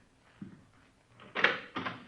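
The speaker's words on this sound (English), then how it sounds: "Go ahead. Open the door." A door is opened in an old radio crime drama: a soft click, then two louder scraping, creaking bursts close by, with no voices over them.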